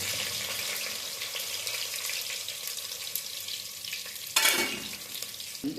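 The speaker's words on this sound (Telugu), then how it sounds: "ఫస్ట్ ఉల్లిపాయలు వేసుకోవాలి, ఉల్లిపాయలు బాయిల్ అవ్వాలి, ఎర్రగా వేయాలి." Onions sautéing in a pan for a Telugu kandhi pesara pappucharu, heard as a steady close sizzle with a sharper louder stirring burst near the end, no talking.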